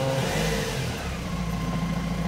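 A Mahindra Scorpio pickup's engine, freshly cleaned after a delayed-acceleration problem, revs up steadily and loudly from close by, a continuous mid-pitched drone with no voices.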